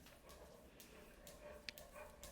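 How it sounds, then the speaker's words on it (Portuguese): A dog panting as it approaches indoors, soft rapid breaths faint and close against a low room background, with a small tick in the middle. "Esse barulhinho é meu cachorro chegando, essa respiração ofegante."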